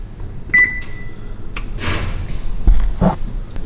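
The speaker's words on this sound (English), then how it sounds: "now we close the oven. We put it on broil to get it nice and crispy" An oven door shuts with a solid thud as the oven is set to broil for a low-carb pizza, followed by a short beep, a few soft clunks and handling knocks nearby.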